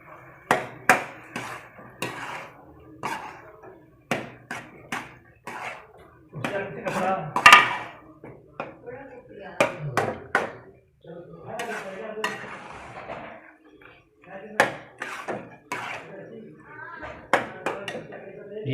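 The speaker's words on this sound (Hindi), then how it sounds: "अब इसको मिक्स करेंगे।" Gajrela ingredients being stirred together in a pot, with repeated clinks and scrapes of a spoon against metal in an uneven rhythm, close by, while a person talks over the mixing.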